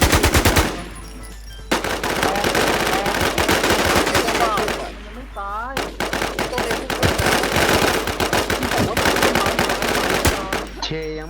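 Rapid bursts of automatic gunfire in the survival shooter Infestation, loud and close with short pauses between volleys, under players talking.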